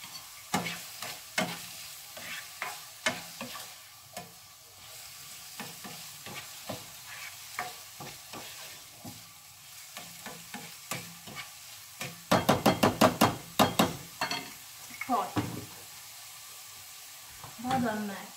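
Food stirred while it fries in a pan gives a soft sizzle under repeated scraping strokes, close by, with a busier burst of stirring near the end and a voice briefly audible.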